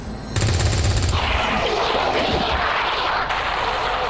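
Gunfire erupts in an XCOM 2 ambush: a loud rapid automatic burst lasting under a second, followed by a dense roar of echoing shots and blasts.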